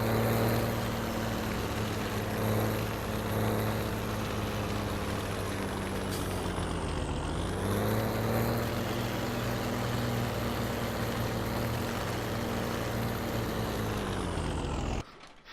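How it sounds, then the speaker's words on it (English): A tractor in the farming video game Farming Simulator 17 drives steadily with a loud, continuous engine drone. Its pitch dips and rises once midway as the tractor shifts speed, then it cuts off abruptly at the end. "I think we're gonna drive down here and put the tractor away"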